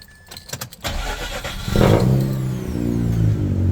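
A Mazda RX8 rotary engine revs up close, starting with a few clicks and knocks, then climbing into a loud, rising buzz that holds steady to the end.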